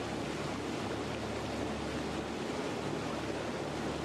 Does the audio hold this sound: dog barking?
no